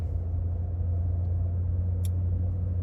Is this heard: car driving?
yes